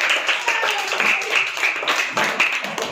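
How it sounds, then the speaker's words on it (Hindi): Class of students clapping hands together in a classroom, a fast scattered patter of many claps in loose bursts, steady and fairly loud, with a few voices mixed in. "चलिए तो एक बार ताली बजाओ"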